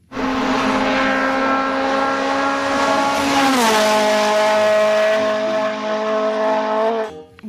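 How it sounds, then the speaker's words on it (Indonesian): A toy race car plays a recorded engine and tire-squeal sound effect, a loud sustained whine that drops in pitch midway and holds steady before cutting off abruptly. "Mobil balap, teman-teman."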